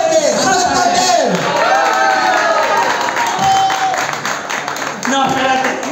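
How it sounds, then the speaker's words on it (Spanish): Applause and cheering for a contestant at a bar drag talent show, loud clapping mixed with shouts, whoops and screaming voices from the crowd, swelling again near the end. "¡Aplausos para Cote Santander!"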